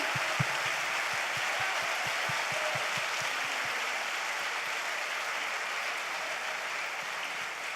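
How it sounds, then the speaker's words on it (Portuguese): Congregation applauding in a Pentecostal church service, dense continuous hand-clapping that fills the room loudly and evenly, with a few sharp low thumps near the start. "Dê um aplauso ao Senhor com todas as tuas forças"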